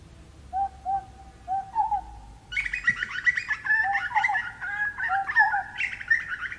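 Australian butcherbirds call in clear, fluting whistled notes, first a few soft low phrases, then a richer, busier run of melodic warbles at moderate distance over faint background noise.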